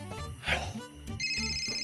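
A phone ringtone chimes in a bright electronic melody during a Marathi TV serial scene, steady and fairly close, entering partway through over a murmur of background sound.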